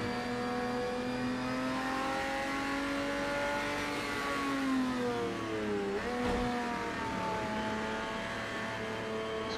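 A race car on a track accelerates with a loud, steady engine roar, its pitch rising and shifting through gears, with a sharp dip and recovery near the end and no voices.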